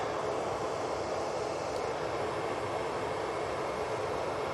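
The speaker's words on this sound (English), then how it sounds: "Right, Ryanair next out." A Ryanair Boeing 737-800 jet departs Manchester Airport, a steady, broad jet roar at moderate distance that stays even throughout, with no voices.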